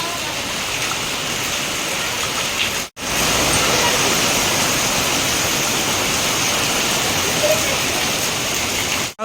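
Heavy rain pours down near Malampuzha dam in Kerala as a dense, steady roar of broadband noise that runs loud and continuous, broken only by a brief gap near the start.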